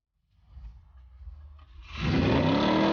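Modified cars at a car park cruise meet: a low engine idle rumbles, then a loud, broad engine roar swells in and holds steady, with no talking.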